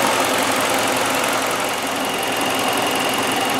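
A car engine idles steadily while air is bled from the coolant system, a loud, constant close-up rumble with a rough, slightly knocking texture and no pauses.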